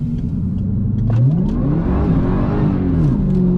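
A Ford FG ute's engine turns over and revs, the pitch rising and falling through a couple of throttle blips over a steady idle, close and loud, with no talk.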